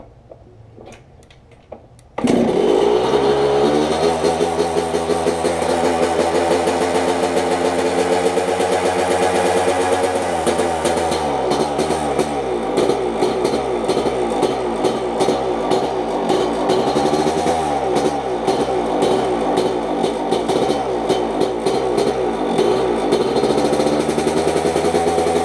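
A 125 motorcycle engine starts up after a quiet moment, then runs loud and close for the rest, with a rough idle and repeated throttle blips revving it up and down.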